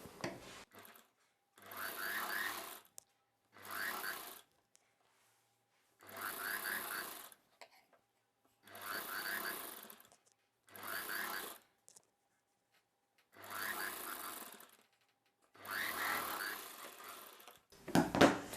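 A sewing machine stitches around the armhole of a sleeveless umbrella dress in about eight short separate bursts, each a second or two long with silent pauses between, close and fairly quiet.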